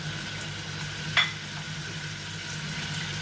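Meat for palak gosht sizzles in a pot on a lit stove, a steady close hiss with a low hum under it and one brief sharp clink midway; no talk.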